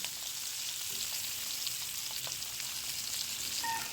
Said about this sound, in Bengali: সবগুলা ফ্রাই করে নিব। মাছ, আলু, টমেটো,